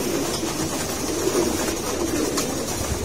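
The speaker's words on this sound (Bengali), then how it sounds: "এই হচ্ছে কবুতরগুলা, এগুলো সব নর কবুতর।" Male pigeons cooing inside a loft, low soft throaty calls overlapping in a steady murmur close by, with faint background noise and no talk.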